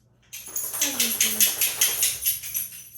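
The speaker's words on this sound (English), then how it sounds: "My dog's coming to visit." A dog moves around right next to the camera indoors, making close, rhythmic jingling and scrabbling pulses with a brief faint whine mixed in.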